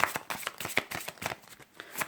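A deck of Doreen Virtue angel oracle cards being shuffled by hand, a quick run of soft close riffling flicks with no talking.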